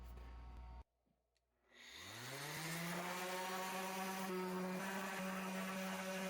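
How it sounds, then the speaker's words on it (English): An orbital sander spins up on a wooden picture frame, a brief click and pause before the motor whines up to a steady, loud, close drone that holds to the end. "I'm just going to use an orbital, and I'm going to go up through the grits"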